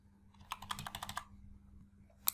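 Computer keyboard typing while entering scenario values in Microsoft Excel: a quick run of about a dozen crisp key clicks over under a second, near and moderately loud, then a pause and one final sharp key press.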